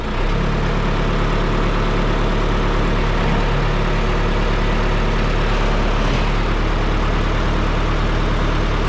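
A heavy tractor engine idles steadily nearby while picking up irrigation pipe, a loud, constant low rumble with a regular throbbing pulse and no talking.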